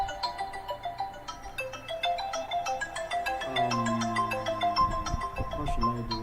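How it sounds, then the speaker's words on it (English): A mobile phone rings with an incoming call, its melodic ringtone repeating in a steady, looping pattern. The tones are fairly prominent, with some faint background noise. "I'm supposed to put my phone to do not disturb."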